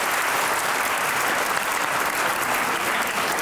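Studio audience applause on a comedy show, loud, dense and continuous clapping from a large crowd, filling the short stretch without a break.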